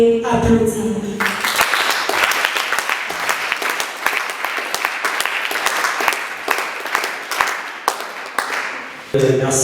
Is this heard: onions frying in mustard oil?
no